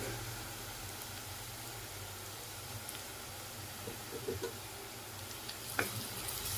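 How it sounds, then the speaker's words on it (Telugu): Ginger garlic paste, freshly ground, sizzles in hot oil in a pan for mutton head curry, a steady low frying hiss with a few small crackles and pops, close and alone with no talk. "ఇందులో మనం కొంచెం ఇప్పుడు అల్లం వెల్లుల్లి పేస్ట్ అయితే వేసుకోవాలి"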